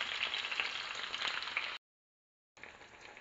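Garlic and tomato sautéing in olive oil in a pan, a steady close sizzle that cuts out briefly and then resumes, with no voices.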